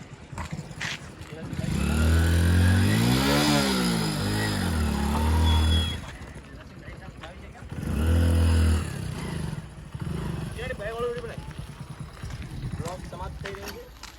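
A motorcycle engine revs up loudly twice, pitch rising and falling with each rev, close by, with quieter idling and voices between the revs.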